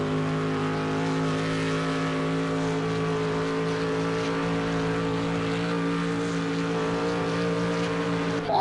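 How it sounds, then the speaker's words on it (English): A racing car's engine on a circuit during a Race of Champions event holds a loud, close, steady droning tone with strong harmonic hum, rising slightly at the very end, with no voices over it. "Through the gears, you can hear those gears working"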